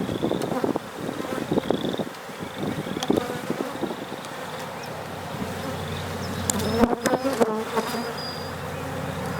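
Honeybees buzz in a close, constant swarm while a beehive is opened for inspection in May, with faint handling noises and clicks mixed in.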